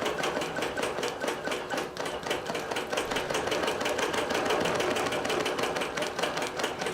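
A computerized quilting machine stitches a Shadow Blocks pattern on a batik quilt, its rapid, even needle chatter running steadily and fairly close throughout.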